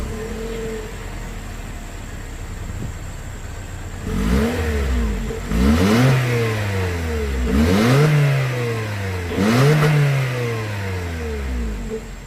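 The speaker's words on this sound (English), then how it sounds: "as always, here is that exhaust clip." A Toyota Corolla Cross hybrid's exhaust idles, then rises in four distinct revs, each climbing sharply and falling back, recorded close at the tailpipe.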